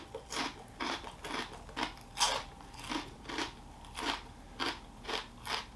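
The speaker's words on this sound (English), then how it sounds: "I love a good crunchy pork rind." Crunchy pork rinds being eaten, with about a dozen loud, sharp crunching bites in a steady rhythm close to the mic and no talking.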